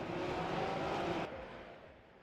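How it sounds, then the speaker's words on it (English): Porsche GT3 Cup race cars in a racing video game roar in a sustained engine drone, which drops off abruptly to a quieter, fading tail. "Is it just me, or is the sound of the cars really quiet?"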